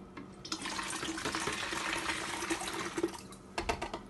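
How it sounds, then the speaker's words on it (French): Water pours from a tap or jug into a lemon juice drink, a soft continuous splashing trickle heard close up for a few seconds with a brief burst near the end. "on va l'ajouter un peu de l'eau là-dedans"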